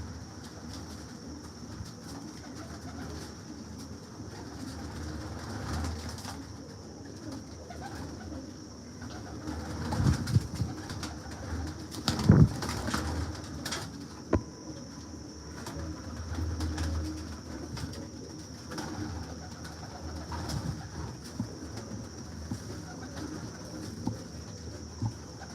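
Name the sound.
pigeons for sale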